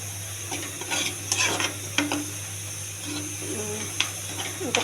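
Spinach being stirred and fried with coconut and peanut powder in a pan, a soft steady sizzle with scraping stirs and occasional utensil knocks against the pan, close and moderate in level.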